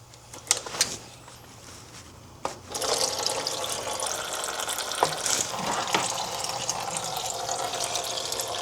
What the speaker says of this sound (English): You can take this out so you drain whatever's inside of the expansion tank.